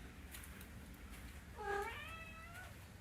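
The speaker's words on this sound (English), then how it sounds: "Yeah, meow." A pet cat in a bedroom window lets out a single soft, drawn-out meow, faint and somewhat distant against quiet room hiss, with no voices.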